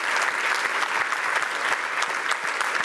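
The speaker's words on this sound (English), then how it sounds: "I'd like you to destroy your hands by giving a massive round of applause to FINOS" A conference keynote audience gives a loud, dense round of applause that carries on steadily with no one speaking over it.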